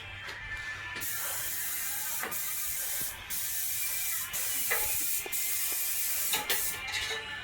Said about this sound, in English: He's using a small tip, except right there when it went there. But as long as he's spraying the substrate